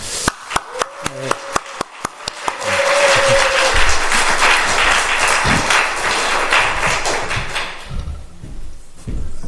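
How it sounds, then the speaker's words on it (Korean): A church congregation at a Sunday afternoon revival meeting claps in unison for a veteran missionary to Africa, a dozen sharp rhythmic claps that swell into loud sustained applause, with voices talking faintly underneath near the end. "우리 참 격려의 박수 하나 하면서 하나님께 영광의 박수 같이 하도록 하겠습니다"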